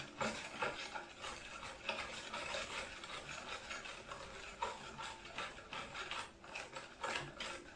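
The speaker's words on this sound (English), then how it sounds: "You have to mix it 5 minutes, and you have to make it very smooth to make the vanilla cake" Vanilla cake batter being mixed at home, with a steady scraping, whirring stir that runs continuously with small rhythmic clicks, fairly quiet and with no talking.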